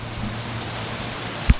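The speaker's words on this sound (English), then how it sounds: "And remember that rain that I was talking about coming? Well, it's here." Steady rain falls outdoors beside a 1964 Chevy Impala SS convertible, a dense even hiss of drops with one louder thump near the end.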